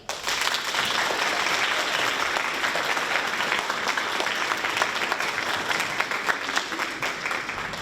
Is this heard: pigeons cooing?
no